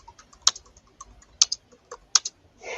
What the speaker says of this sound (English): I can hear a keyboard.